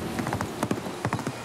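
Rapid hoofbeats of a horse galloping in Assassin's Creed Mirage, a steady run of clip-clop thuds that sit close and moderately loud against a soft game backdrop.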